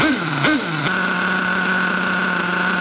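A warmed-up nitro RC car engine runs indoors at a steady high-pitched idle after two short revs near the start, holding a constant buzzing drone for the rest of the clip with no talking.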